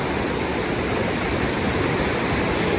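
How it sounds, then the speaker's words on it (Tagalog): Strong sea waves crash and churn in a steady, loud, broadband roar, the surf continuous and close with no voices over it. "Lakas ng alon."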